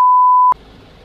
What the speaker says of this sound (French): J'ai mis un bip